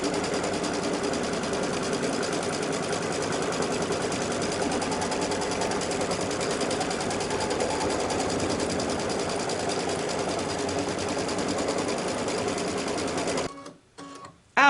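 An embroidery machine stitching an outline on a T-shirt ruffle, running at a steady rapid hum with an even needle rhythm for about thirteen seconds before stopping with a couple of clicks.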